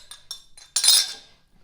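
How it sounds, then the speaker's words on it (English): A whisk clinks against a bowl while chocolate cake batter with cocoa is blended for a Guinness chocolate cake, with a few light taps followed by a brief burst of louder scraping and rattling, close by with no talk. "So we're going to whisk this until it's blended"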